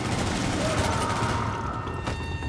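In The Division video game, a rapid burst of gunfire hits a Cleaner's air tank, giving a rattle of quick shots and a sharp pop near the end, with a low mechanical rumble beneath and a muffled voice.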